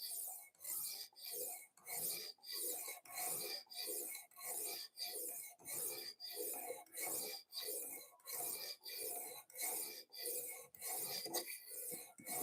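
Boning knives with narrow bevels being sharpened, a close rasping stroke repeated steadily about every half second, even and rhythmic throughout with no talk.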